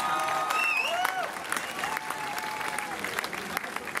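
Concert crowd at a city festival in Dresden applauding and cheering, dense continuous clapping with whistles and shouts rising above it throughout.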